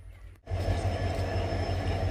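A train rolls into Mariani Junction station in Assam with a low steady rumble and rhythmic clatter of wheels over rail joints, close and fairly loud after a brief quiet moment, with no voices.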